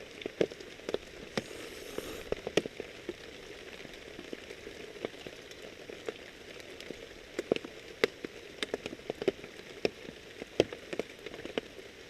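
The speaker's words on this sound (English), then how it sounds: "the water is pouring down and the fog's getting ready to move in" Heavy rain pours down outdoors in bad weather, a steady close hiss broken by frequent sharp drips and drops striking nearby surfaces; no one speaks.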